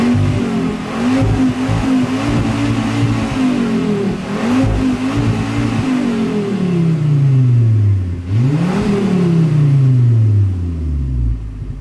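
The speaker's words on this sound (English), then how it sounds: "we'll put up a quick video of me revving right now" A Volvo V70R engine revs hard several times, pitch climbing and falling with each rev before one long sweep down, loud and close throughout with no talking.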